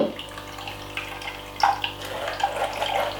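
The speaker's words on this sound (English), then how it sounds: "Pour it in my strainer" Fresh cucumber juice poured into a strainer at a juice bar, a steady, continuous liquid splash and trickle running for several seconds, close and without talk.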